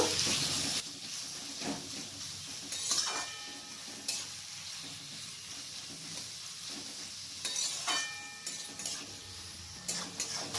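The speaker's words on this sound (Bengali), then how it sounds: "পেঁয়াজটাকে আমি এখানে ভালো করে ভেজে নেব।" Sliced onions fry and sizzle steadily in a pan, with occasional louder stirring scrapes and clinks, heard close with no talking.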